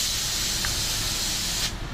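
A paint spray gun sprays a car body, a steady loud hiss of atomized paint that runs continuously before cutting off near the end.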